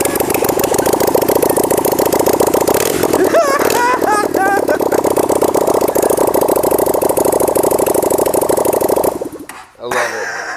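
A V-twin motorcycle engine idles steadily with a lumpy, burbling rumble, close and loud, then cuts out abruptly near the end.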